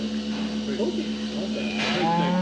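Cows on a farm low in a drawn-out, wavering moo, with a second lowing call rising toward the end over a steady mechanical hum, close and fairly loud.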